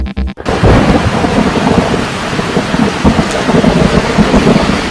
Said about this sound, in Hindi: किसी नदी में आसमानी बिजली गिरने का अद्भुत दृश्य आपने नहीं देखा होगा तो देखिए।